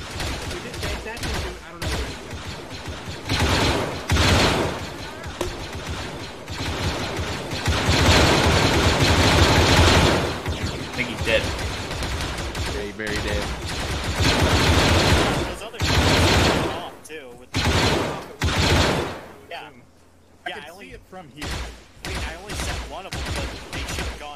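An SAW machine gun in the video game Arma 3 fires in long sustained bursts, loud and dense with short gaps, while players' voices are heard at times over the gunfire.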